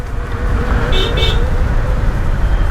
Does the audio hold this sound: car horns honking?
yes